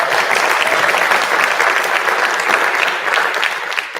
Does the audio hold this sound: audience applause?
yes